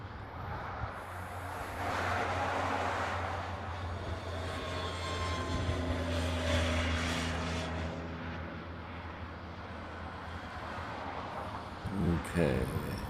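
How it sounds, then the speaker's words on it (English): A Boeing 757 takes off from the reef runway at Honolulu airport. Its jet engines rumble loudly at a distance, swelling and holding before slowly fading, with broad low roar and wind noise throughout. "That 757 is second for departure on the reef runway."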